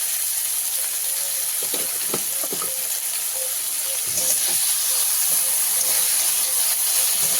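Ginger garlic paste sizzles in a hot pan while Katla fish rezala is cooked, a steady close frying hiss with a few faint clinks and soft voices in the background.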